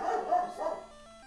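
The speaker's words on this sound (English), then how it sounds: "What the fuck is he barking?" A dog barks and yips in short, medium-loud bursts inside a Pokémon game, fading into softer electronic tones.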